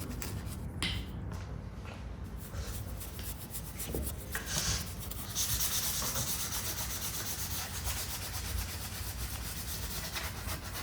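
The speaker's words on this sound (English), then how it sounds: "So I'm using 320 grit sandpaper." Painted wood is rubbed with 320 grit sandpaper to distress it, producing a steady, close scratchy sanding that continues without a break under soft background noise.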